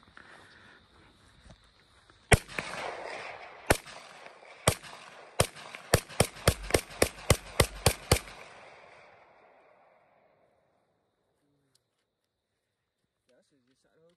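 A rapid volley of gunshots from a Scat Pack firearm, about a dozen sharp, loud cracks, spaced out at first and then in quick succession, with a roar that trails off, and faint talk heard before it.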